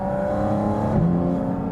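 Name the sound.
Porsche GT4 RS flat-six engine mechanical intake noise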